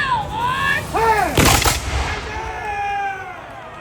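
A musket volley fired by reenactors at a 250th anniversary reenactment of the Mecklenburg Declaration of Independence, a single loud crashing blast with a rolling echo, amid shouted commands and cheering voices.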